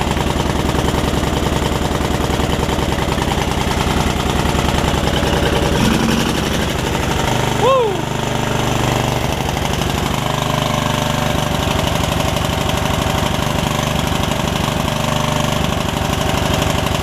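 A Yard Machines riding mower, its engine once full of water and now running rich, idles loudly and steadily with an uneven, knocking chug throughout, nearby and with no talking.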